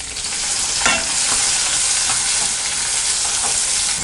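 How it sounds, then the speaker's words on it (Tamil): Onions sizzle steadily in hot oil, with a few light scraping stirs of a utensil in the pan. "இப்போ வெங்காயம் ஆட் பண்ணிக்கலாம்."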